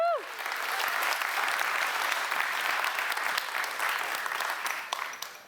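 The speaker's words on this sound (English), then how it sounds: "Can I have a little round of applause for them" Warm applause from an audience at an opening festival, rising quickly after a brief whoop and continuing as steady crowd clapping before tapering off.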